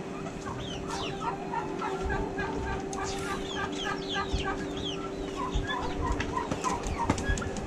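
Chickens, some large and some small village birds, cluck and chatter continuously around the grounds of a resort in Nongsa, Batam, with repeated close calls over a steady background hum.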